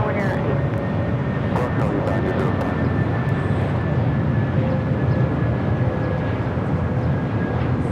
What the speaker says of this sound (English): American Airlines 1526 coming in from Dallas-Fort Worth on the A321neo